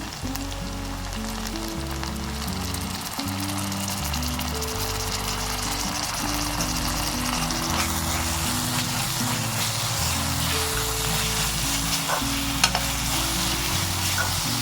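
Ginger garlic paste sautéing in a pan for a spicy South Indian egg pepper gravy, a steady loud sizzle with stirring throughout, over a continuous layer of background music.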